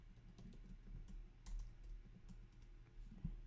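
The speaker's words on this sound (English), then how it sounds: "Let's type in top singers." Quiet, close typing on a computer keyboard: a quick, uneven run of soft key clicks with short pauses and a couple of louder taps, and no voice.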